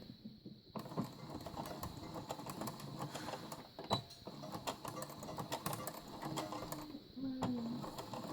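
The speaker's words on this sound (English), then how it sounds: "Take your pins out and continue sewing all the way down to the bottom" A sewing machine stitches pillowcase fabric up close, a steady mechanical whir with ticking needle strokes, pausing briefly while a voice talks over it.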